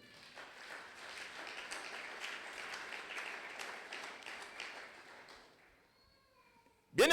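A church congregation at a Sunday thanksgiving service claps and cheers in a broad, sustained wash of applause for about five seconds, then fades to near silence before a sudden loud burst at the very end.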